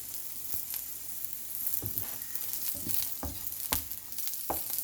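Ivy gourd fries in a pan with a soft, constant sizzle, broken by a few dull knocks and scrapes of stirring.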